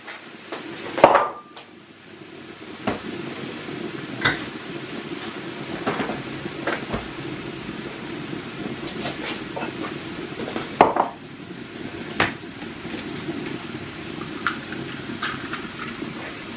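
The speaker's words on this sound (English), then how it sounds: "I'm going to make a very simple egg wash." Two eggs are whisked in a bowl for a simple egg wash, a steady quiet scraping and tapping of utensil against the bowl with a few sharper clinks scattered through.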